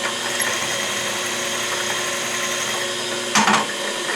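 A sensitive drill press bores through a part for a Stuart Progress steam engine, with a steady motor hum under a continuous whir and a brief louder grinding burst near the end.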